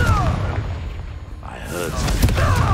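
A Confringo blasting spell explodes in the Hogwarts Legacy video game, a loud booming burst over a constant background rumble, with a second blast building toward the end.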